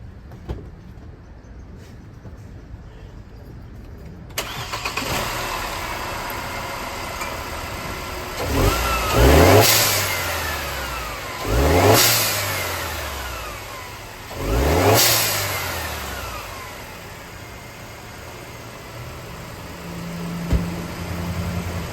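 A Mercedes C250 car engine fitted with a blow-off valve fires up after a quiet stretch, idles, then revs sharply three times with rising and falling roars, fairly close, no talking.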